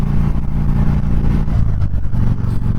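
A custom Harley-Davidson Fat Bob motorcycle out riding, its engine a loud, steady low rumble with faint mechanical clatter, heard close and without any talking.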